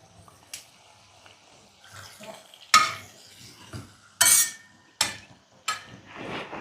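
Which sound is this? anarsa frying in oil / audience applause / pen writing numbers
anarsa frying in oil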